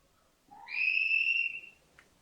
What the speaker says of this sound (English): got some whistles going on in the background